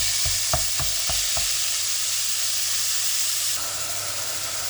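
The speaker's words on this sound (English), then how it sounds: "I'm going to give that a good fry until it's like all the strands are broken up" Beef mince for a bolognese fries in a pan with a constant loud hiss, several sharp scraping stirs near the start, then an unbroken sizzle that softens slightly near the end. No voices.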